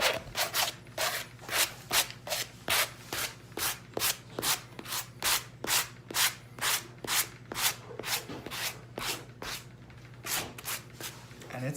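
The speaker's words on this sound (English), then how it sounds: "Now I'm just gonna take my sanding block, just kind of release some of these" A sanding block rubs loose chips off a Dollar Tree Halloween and fall craft piece, about two dozen brisk, evenly paced scraping strokes, close and loud.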